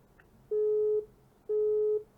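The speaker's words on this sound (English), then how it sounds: "We have also lost that call." Busy tone on a dropped phone call to a live police radio show, two long steady beeps, each about half a second, spaced a second apart and fairly clear over faint line hiss.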